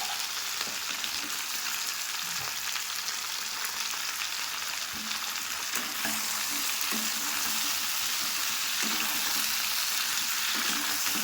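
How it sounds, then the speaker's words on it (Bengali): Steady, soft sizzling of spices frying in a pan over low heat, for a fish curry with mixed vegetables, continuous throughout with occasional faint stirring scrapes, no voices. "লো গ্যাসে একটু ভাজা ভাজা হবে।"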